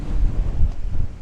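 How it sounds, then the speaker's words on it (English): Wind buffets a microphone outdoors in gusty, low rumbling bursts, loud and close, with no voices. "It's really windy here."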